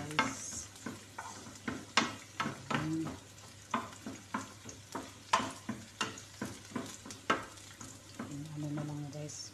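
Onions and corned beef fry in a pan, with repeated stirring taps and scrapes at an even pace over a low sizzle, fairly quiet overall.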